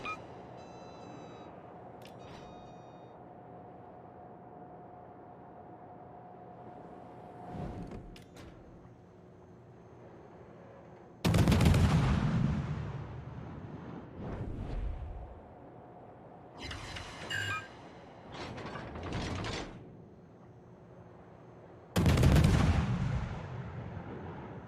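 Battleship main guns fire HE shell volleys in World of Warships, heard as two heavy booming salvos about ten seconds apart with rolling rumbles and a few lighter bangs between them over low engine hum.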